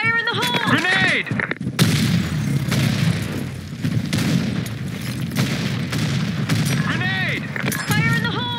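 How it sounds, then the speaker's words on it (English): Grenade blasts and gunfire in the shooter game CrossFire, a loud dense battle of booms and rapid shots, with shouted voices and radio-style callouts over the firing at the start and end. "Fire in the hole! Grenade!"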